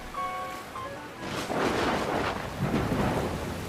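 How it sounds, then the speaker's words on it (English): A thunderstorm with rain in the video game Dragon Builders 2: a soft chime gives way to a broad, loud roll of thunder and steady rain noise that swells and lingers. "Where'd this rain come from?"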